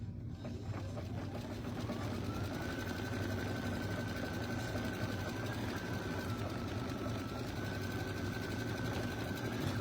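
An embroidery machine stitches fabric held in a hoop, giving a steady, continuous mechanical whir with a rapid needle rhythm and a faint high whine throughout, close and alone.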